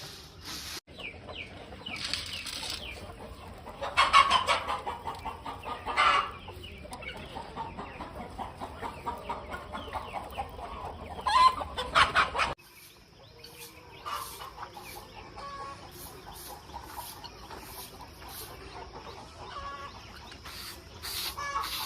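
Country hens on a farm in Salem, Tamil Nadu, cluck and call in repeated bursts, fairly close, with soft rustling and a quieter, steadier stretch of clucking toward the end.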